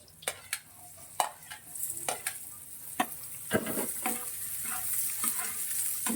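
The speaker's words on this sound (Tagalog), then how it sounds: "Ikot-ikot na natin mga idol." Chopped onions and garlic frying in a pan are stirred with a utensil, giving steady sizzling broken by scraping strokes and occasional clinks against the pan, close up and without speech.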